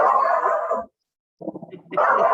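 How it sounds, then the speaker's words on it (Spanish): A small dog yaps a few times in a short burst, close and fairly loud, between stretches of room noise during an online seminar. "¿Perrito?"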